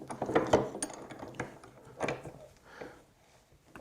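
A bench vise being tightened around a Magpul BEV Block, giving scattered close mechanical clicks and ratcheting knocks in short bursts, with a few louder clunks early on and quieter creaks after.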